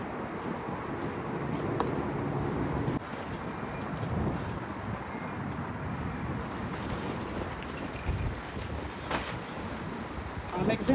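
Strong wind buffets the microphone in a garden with a tomato trellis, a continuous rough low roar with gusty surges over several seconds, while a person talks beneath it.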